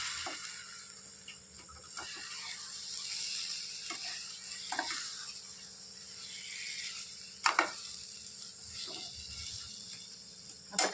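Paneer cubes added to cooked masala in a pan make a soft, steady sizzle under stirring scrapes, with a couple of louder utensil clatters near the end. No one talks.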